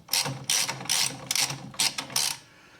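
A ratchet wrench loosening a bolt on the front end of a 1978 Corvette, with five or six quick bursts of clicking pawl strokes, close and loud, separated by short pauses.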